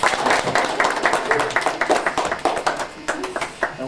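A group of schoolchildren clapping together in a classroom, a busy scatter of many small hands close by, fairly steady for the whole stretch with a few louder claps standing out and no words spoken.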